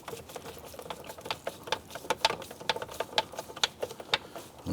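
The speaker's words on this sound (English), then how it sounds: "Let's go ahead and get our screws installed." Screws are driven into the steering column of a 2002-2008 Dodge Ram 1500 during a clock spring replacement, giving quick ratcheting clicks and rattly taps in an uneven rhythm, close up and fairly quiet, with no speech.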